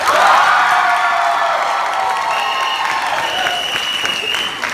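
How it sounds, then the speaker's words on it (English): Loud, continuous applause from a high school ComedySportz audience, with scattered cheers and whoops, starting at full strength and tapering only slightly over several seconds. "If you feel it goes to the blue team, clap now."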